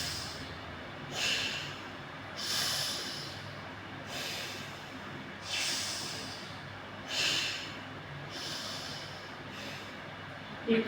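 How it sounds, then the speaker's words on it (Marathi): Slow alternate-nostril breathing in anulom vilom pranayam, with a sharp nasal breath every one and a half seconds or so, close and clear in a quiet room and without talk. "इकडून श्वास घेतला की इकडून सोडायचा आहे पुढे आणि मग इकडून घ्यायचं आहे"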